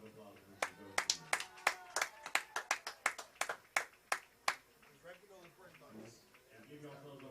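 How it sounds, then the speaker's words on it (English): Crowd clapping at a high school ball game, Rio High Rattlers versus Valley View Tigers, a quick run of sharp claps that swells and then fades into murmuring voices. "give yourselves a round of applause because of the community of Rio Grande City"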